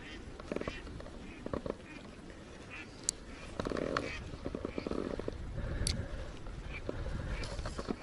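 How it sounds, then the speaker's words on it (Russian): Scattered duck quacks from ducks flying over a river, a few short nasal calls at a distance, over wind and outdoor background noise. "О, утки летают."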